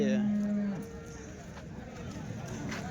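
A cow at a Sunday cattle market in Chintamani lets out a single short moo at the start, then the noisy market hubbub carries on in the background.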